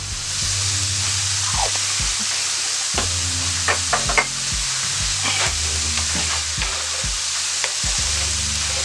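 Vegetables seasoned with salt and black pepper sizzle steadily in a skillet for a country breakfast casserole, with a utensil repeatedly stirring and scraping them. The frying is continuous and close, and no one speaks.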